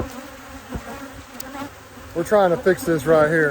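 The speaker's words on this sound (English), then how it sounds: "These bees are off the chain." Bees swarm around a beekeeper at the hive, a steady close buzzing throughout with a few louder passes near the microphone, while someone talks over it.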